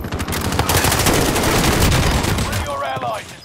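Rapid automatic gunfire in Call of Duty: Modern Warfare, a dense, loud burst of shots rattling almost continuously before cutting off near the end.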